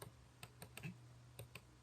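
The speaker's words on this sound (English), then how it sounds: "For instance, I'm going to type here" Computer keyboard typing during a software tutorial, a sparse run of light clicking keystrokes heard up close but faintly over a steady low hum.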